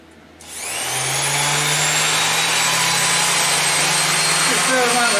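Mac Allister 300W 240V corded random orbit sander (SOS300) switched on from near silence, spinning up within a second into a loud, steady whirring drone held close by.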